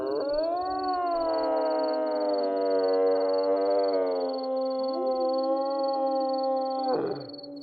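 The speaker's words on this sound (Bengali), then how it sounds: "এর মধ্যে আবার শুরু হয়ে গেল শিয়ালের ডাকাডাকি।" Jackals howl at night in a cartoon sound effect: a long, smooth, rising and falling wail, loud and alone, with a faint steady high tone running above it.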